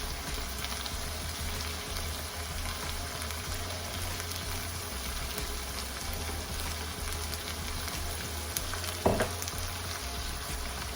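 Ginger slices frying in a pan for a dum keema dish, a steady hissing sizzle running continuously with a low hum underneath and one brief clatter near the end.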